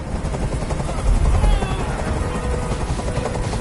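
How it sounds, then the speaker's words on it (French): A helicopter hovers overhead in the video game Detroit: Become Human, its steady rotor drone and buzzing chop filling the scene continuously and loudly with no pauses. "Je peux plus supporter ce bruit! Fais dégager cet hélicoptère, maintenant!"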